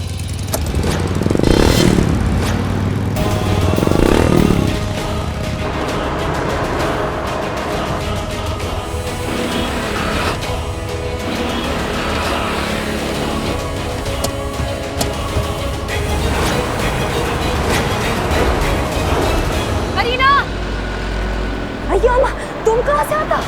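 Motorbike engine running as a rider travels along, a steady droning hum with a louder surge near the start, heard under frequent dialogue between several people.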